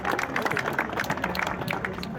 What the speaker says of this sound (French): On peut l'applaudir, effectivement.